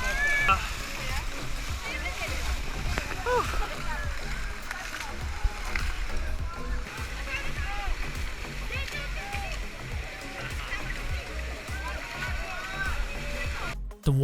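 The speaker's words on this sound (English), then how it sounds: "everyone jumped into the pools in a frenzy, with their small buckets to wash and play with the elephants" Continuous splashing and sloshing of water as people with small buckets wash and play with elephants in a pool at a Chiang Mai elephant sanctuary, a crowd shouting and chattering throughout, busy and lively, ending in a sudden cut.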